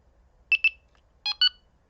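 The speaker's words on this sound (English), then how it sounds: "If I hold down the button and wait for 2 beeps" A Delkim Ev-D bite alarm gives two pairs of short, bright electronic beeps in near silence when its button is held down.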